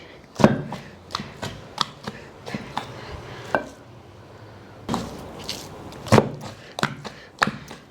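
Repeated dull, wet thuds of minced mutton being pounded in a stone mortar, irregular and close, with short pauses between strikes.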